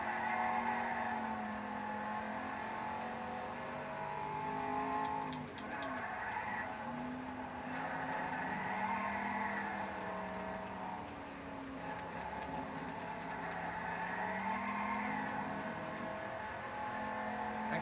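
Stock car engines drone steadily around a track in the racing game Wreckfest, a continuous loud roar with rising and falling pitch as cars pass, plus occasional tire skids.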